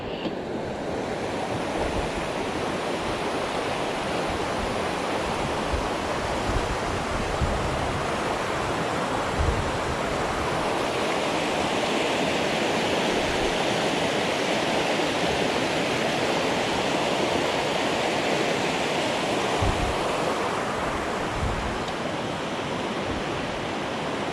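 Stevens Creek rushes steadily beside a mountain trail on the Wonderland Trail, a continuous loud broadband wash of flowing water with no pauses, voices or other sounds.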